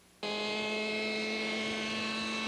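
A radio-controlled helicopter-style aircraft hovering before landing, its motor starting abruptly and holding a steady, loud, high whine with a strong buzzing tone.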